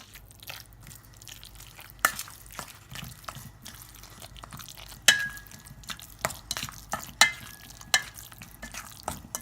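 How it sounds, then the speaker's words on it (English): Tuna sandwich filling stirred in a bowl, a close, steady run of soft wet squelches and scrapes with a few sharper clinks of a utensil against the bowl, and no voices. "you can just mix it"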